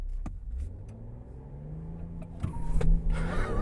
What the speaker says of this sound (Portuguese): O carro tá no modo normal, 4x4 automático.